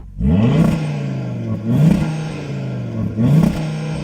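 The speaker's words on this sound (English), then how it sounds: "Go on, start up the Audi" An Audi RS3 five-cylinder engine revs three times, each burst rising sharply to the soft limiter then settling back to a steady idle, close and loud with no talking.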